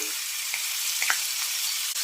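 Garlic and green chili paste sizzles in hot oil with crackling mustard seeds and cumin, a steady close frying hiss with a few sharp pops and light stirring.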